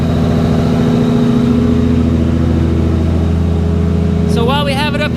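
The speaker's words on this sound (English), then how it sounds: "Check out that turbo spooling in there." A Nissan Skyline R33 engine runs steadily up close, a loud, even drone with a turbo whine spooling over it, and someone starts talking near the end.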